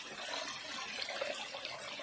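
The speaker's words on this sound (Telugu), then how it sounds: "ఒక నదీ ప్రవాహం" A river stream flows near a forest waterfall in a steady, even rush of water, fairly soft and unbroken, with no voices.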